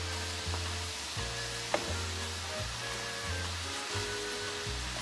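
A courgette filling with sweet corn sizzles in a pan while being stirred, a quiet, even frying hiss broken by regular low scrapes of the spoon and one light tap, close and steady with no voices.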